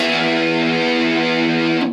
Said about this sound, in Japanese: ここはですね、歪みを思いっきりかけて弾きましょう。